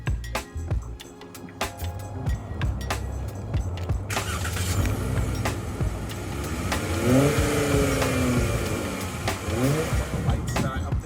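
A 2020 Dodge Challenger V6 fitted with a Borla cat-back exhaust idles with a steady low burble, then revs up with a sharper throaty note and several rising blips close to the microphone.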